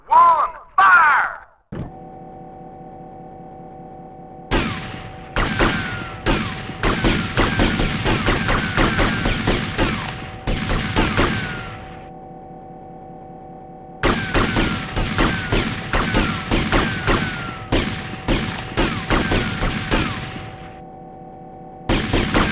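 Gunfire volleys in GTA Vice City: a few loud shots, then a low drone, then two long bursts of rapid, sharp cracks, each volley several seconds long, separated by pauses with the steady hum.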